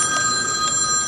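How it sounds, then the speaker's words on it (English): A mobile phone rings with an incoming call, a steady electronic ringtone with bright sustained tones pulsing several times over a short stretch against a low hiss, close and clear with no talking. "Potential patient now will get a phone call back on their phone coming from the research study"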